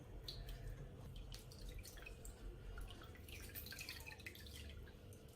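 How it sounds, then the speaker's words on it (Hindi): Water drips and trickles from fresh paneer being squeezed by hand in a cloth while making rasgulla, a quiet run of small irregular splashes close by with no talking. "इसको ऐसे हाथ की मदद से ऐसे अच्छी तरह इसका पानी सारा निकाल लेना है।"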